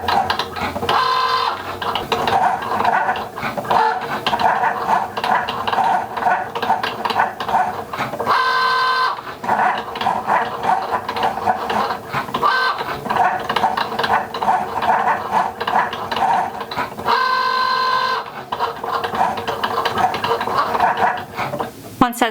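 A Cricut machine cuts heat transfer vinyl on a mat, making a loud whirring mechanical buzz with rhythmic back-and-forth passes and short pauses between strokes, running steadily throughout.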